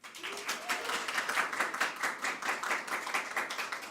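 Audience applause for a graduate crossing the stage at a higher certificate graduation ceremony, a dense steady patter of many hands clapping throughout, moderately loud and continuous.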